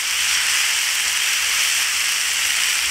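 Garlic and hot pepper sizzle in a hot pan, a steady bright hiss of frying that runs continuously at an even level without pauses.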